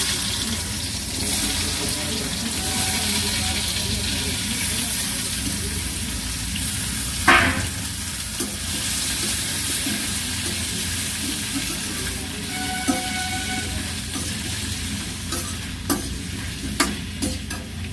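Steady sizzling of green chili and pumpkin frying in a pan, with occasional stirring scrapes and clinks over the continuous hiss.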